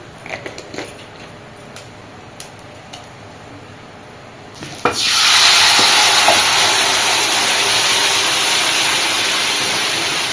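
Cumin seeds and dried red chili hit hot oil in a wok, starting a sudden loud, steady hiss halfway through after a few faint clinks of utensils.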